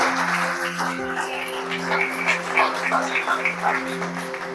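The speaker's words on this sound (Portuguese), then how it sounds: "Dá uma salva de palmas para o Senhor Jesus." A church congregation claps in praise to Jesus, steady applause running throughout, joined by a sustained organ or keyboard chord underneath.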